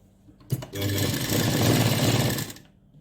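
A sewing machine runs in one continuous burst of stitching for about two seconds while a blouse is sewn, close and loud, with a brief start-up knock just before and quiet on either side.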